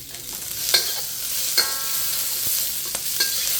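Thai fried rice with pineapple, basil and cashew nuts sizzles steadily in a hot pan while stir-frying, with sharp scraping clinks of a utensil stirring every second or so.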